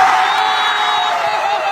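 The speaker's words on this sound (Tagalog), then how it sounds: "Sa huling galaw niya, nagwala na lahat ng manonood at kasama na ako doon." A crowd of spectators at a Sunday street basketball game cheers and shouts in a steady, loud roar, with whoops carrying through.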